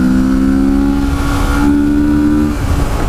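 A 2017 Kawasaki Z650 motorcycle engine revs and pulls steadily with a rising, sustained drone, loud and close, with wind noise around it.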